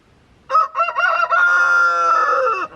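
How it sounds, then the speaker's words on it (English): A rooster crows once in a spring garden in the Missouri Ozarks, a loud, close call that rises and then holds a long, strained note. "Rooster man, can you quiet it down a little?"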